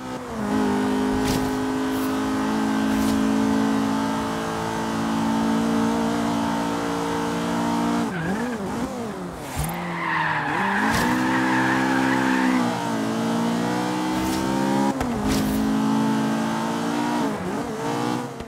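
Race cars roar around the Three Bridge Circuit at Surfers Paradise in a 25-lap endurance race in Forza Horizon 3, a sustained loud engine drone with gear shifts, revs rising and falling, and tire squeal through the corners.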